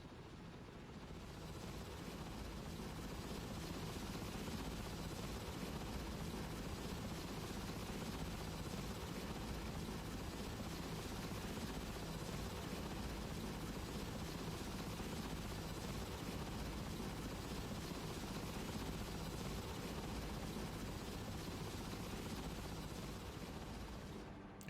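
A military helicopter in the real-time strategy game Broken Arrow drones steadily and faintly, its rotor noise forming a continuous low hum that holds unchanged for about twenty-five seconds with no talk.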